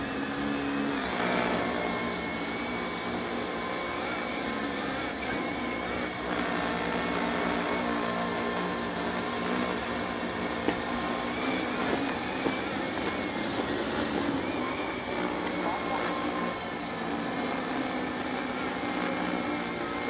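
A microdrone hovers in GPS position hold during a power line inspection demonstration, its rotors making a steady, moderately loud droning buzz that wavers slightly throughout as it is pushed off position and returns.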